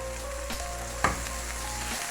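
Finely chopped tomatoes and other vegetables fry in oil with a steady sizzle, and a few soft stirring knocks stand out from the hiss, one of them sharper than the rest.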